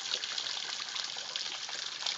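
Steady, broadband rush of a spring waterfall dropping about 12 feet from a rock shelf in the eastern Ozarks, continuous and fairly close with no voices over it.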